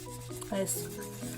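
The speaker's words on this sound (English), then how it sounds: "I like to use the step 3, which is the fine grit, to smooth the edges of the nails" A fine-grit nail file rubs back and forth over fingernail edges, giving a soft, close, continuous rasping scrape through a brief moment.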